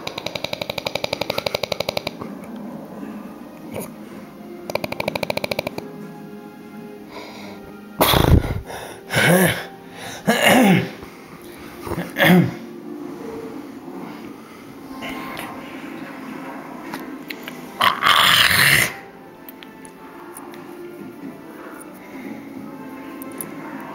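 A series of odd, irregular snores comes in short loud bursts, some snorting and sneeze-like, separated by quieter breathing over roughly half a minute of near room noise.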